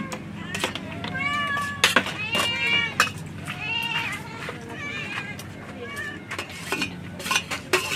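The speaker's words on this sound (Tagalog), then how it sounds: "Ano yung pusa?" A cat meows repeatedly in a poor family's home, rising and falling cries mixed with clinking dishes and cutlery, with people talking alongside.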